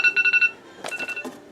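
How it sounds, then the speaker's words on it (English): A telephone rings in a room where a 1996 Sears Gamefisher 9.9 hp outboard motor is being worked on, giving a clear burst of rapid electronic ring pulses followed by a second, rougher ring pattern, close and fairly loud with no talk. "As soon as I start the video, the phone rings."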